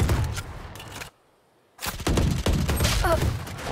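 Gunfire through a wall in VALORANT, bursts of rapid loud shots that cut out to near silence for about a second, then resume in heavy volleys.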